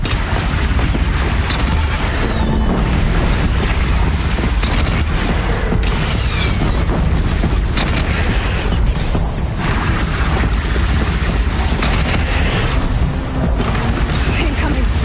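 Cannon fire booms repeatedly amid loud, dense battle noise in Horizon Zero Dawn's final battle, mixed with clanking mechanical sounds and creaks over a constant roar, while voices shout in the background.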